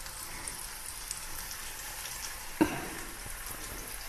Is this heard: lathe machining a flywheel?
no